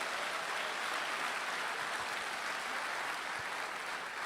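A church congregation applauds, a steady wash of many hands clapping at a distance, fairly faint and continuous without a break.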